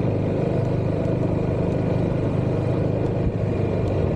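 A Yamaha Xmax and Honda Silverwing scooter cruise along a country road, their engines giving a steady, close, low drone mixed with road and wind noise throughout.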